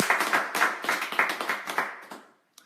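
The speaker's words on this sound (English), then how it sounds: "Let's clap and shout out." A small audience claps in loose rhythmic bursts at a church-style gathering, close and lively, the clapping thinning out toward the end.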